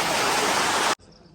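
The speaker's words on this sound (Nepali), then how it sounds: "पानी एकदमै झरि नै रहेछ यहाँ" Heavy rain pours down in a dense, loud, hissing roar that cuts off abruptly, leaving a quieter background.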